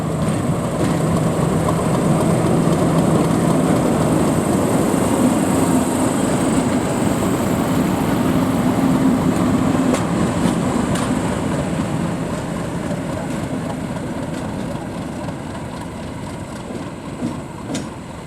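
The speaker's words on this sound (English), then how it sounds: "we watch Class 50 50035 Ark Royal run around its train" A Class 50 diesel locomotive rumbles steadily nearby as it runs around its train at a station, a deep continuous drone with faint clicks and creaks of moving rail cars, gradually easing off.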